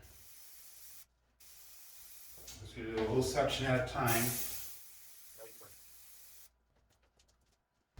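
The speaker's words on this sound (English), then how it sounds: "We're just going to spray it right onto the table." An aerosol can of spray adhesive sprays onto a craps table in a long steady hiss lasting a couple of seconds while a person talks quietly nearby.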